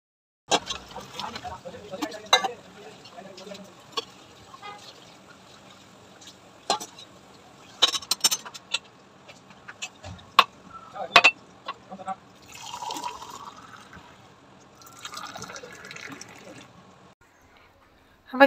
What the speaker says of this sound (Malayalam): ഞാൻ ആ ചായയൊക്കെ ഒന്ന് ആറ്റിച്ചെടുക്കട്ടെ.